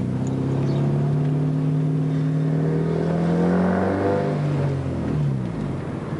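A car engine revved at wide open throttle while air-fuel ratio is logged, the tone climbing steadily through the gears, loud and close, with harmonic drone rising and then easing off at the end.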